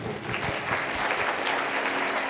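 A church congregation claps loudly and steadily during a Punjabi-language sermon, with dense, continuous applause that fills the room from start to finish and no clear voices above it.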